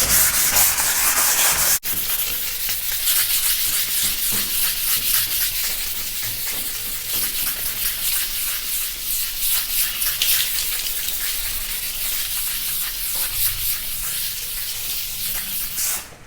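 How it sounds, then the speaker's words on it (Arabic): Steady scratchy rubbing of 320-grit sandpaper over wall putty on an interior wall, a continuous close hiss with rhythmic back-and-forth strokes running throughout, after a brief knock near the start. "وببدأ باستخدام الصنفرة 320 أبدأ أصنفر المعجون وأبدأ أصنفر"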